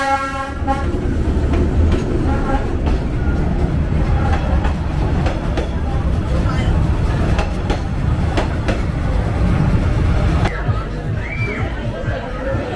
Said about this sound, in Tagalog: Malapit na ito yung train.